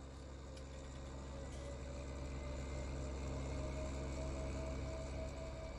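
Tractor engine idling in a farming game, a steady low rumble with constant vibration and a faint hum throughout, fairly quiet and alone.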